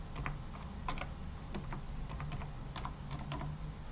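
Keys clatter on a computer keyboard as a message is typed into a Jenkins webhook setup, a close, steady run of crisp taps over a low background hum.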